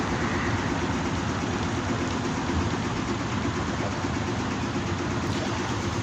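Two boat engines manoeuvring inside a Canal du Midi lock make a steady, loud, low diesel rumble with no pause or change in pace.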